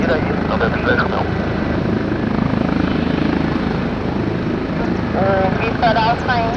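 The helicopter PP-NJR runs loud and continuous, its engine and rotor whine close by, while radio chatter and a voice cut in briefly.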